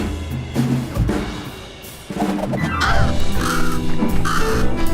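Crow cawing in the video game Little Kitty, Big City: loud, repeated harsh caws over background game music, with no talk.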